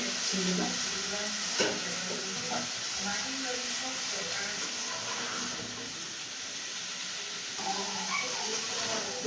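Cauliflower and potatoes stir-fried in a pan for a prawn curry, a steady broad sizzle with repeated scraping stirs and a few sharper clinks, close and continuous throughout.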